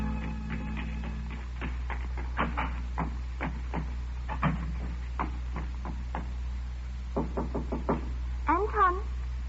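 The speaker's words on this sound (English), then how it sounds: "I waited for her knock." Knocks on a door in an old suspense radio drama, several sharp raps in irregular clusters spread across the passage, fairly close, over a low steady hum with a brief warbling tone near the end.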